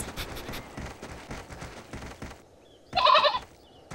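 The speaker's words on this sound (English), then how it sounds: "It's a mother goat with her children." A mother goat with her kids in an Asian animal setting, one short loud bleating call near the end after a stretch of background sound, with nothing else distinct.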